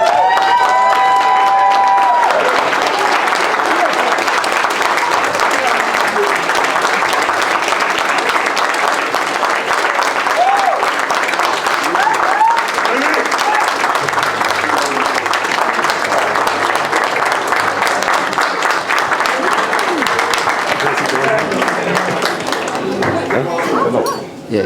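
Wedding guests rise to their feet for Mr and Mrs Lewis, filling the room with sustained, loud clapping and cheering that runs steadily for over twenty seconds, with scattered whoops and voices mixed into the applause.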